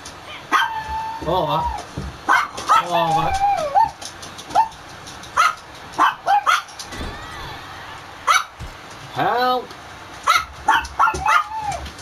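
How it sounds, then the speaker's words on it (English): An indoor dog barks and yips repeatedly in short, close bursts, with some whimpering in between and someone talking over it. "Dog's going blooming nuts."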